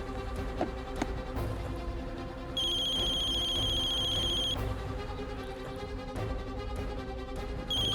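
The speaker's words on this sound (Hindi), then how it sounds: "कल्याणी का फोन" A telephone rings with a steady electronic tone lasting a couple of seconds, then a brief start of another ring, over faint background noise.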